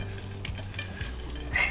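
Cleaned, cut shrimp are tossed with a small teaspoon of salt in a bowl, soft wet stirring and a few light clinks close by, with no talk.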